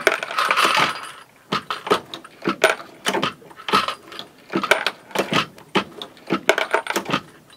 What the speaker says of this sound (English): What you're hearing is I'm shaking the tube to keep the tube filled as I'm running the cases through.